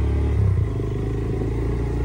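Steady engine drone of a motorcycle being ridden on a road, a Suzuki Gixxer mentioned, with a brief louder surge early on and constant low rumble throughout.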